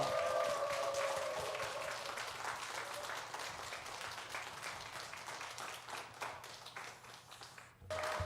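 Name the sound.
church congregation applause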